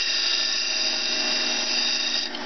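Belt sander running a 60 grit belt while shaping and rounding the tip of a wooden drumstick, a steady loud high whine that holds evenly and dips briefly at the end.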